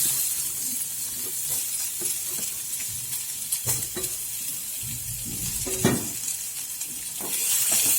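Finely chopped onions, ginger and garlic sauté in oil in a pan for a chicken curry. A continuous crackling sizzle runs underneath frequent clinks and scrapes of a spoon stirring against the pan.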